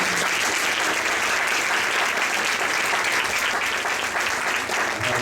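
A church congregation applauds loudly at a Sunday service, dense sustained clapping from many hands that fills the room evenly throughout with no break and no speech over it.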